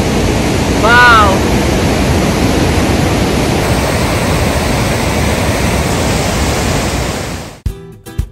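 Rushing river water pours beneath an old stone bridge in Norway's Måbødalen valley, a loud, steady broadband roar that holds throughout; a brief whistle-like tone rises early on, and the torrent cuts off abruptly near the end.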